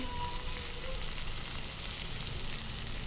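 Eggplant pieces fry in hot oil in a home kitchen pan, giving a steady, dense sizzle that holds even and fairly loud throughout with no talking.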